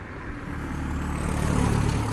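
A car passing by on a street outdoors, a broad steady road rumble that swells slightly as it goes by, no talking.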